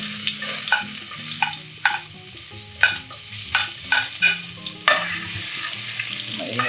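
Ginger sautéing in hot oil for a spicy monitor lizard dish, with crackling sizzle and irregular clanks and scrapes of a utensil against the pan, close and fairly loud.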